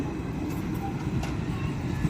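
Interior of a moving, nearly empty passenger train in Gujarat, on a Bhavnagar–Mahuva route, with a steady low rumble of the carriage rolling along and faint rattles above it, no voices.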